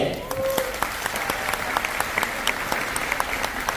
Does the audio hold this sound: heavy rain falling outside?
no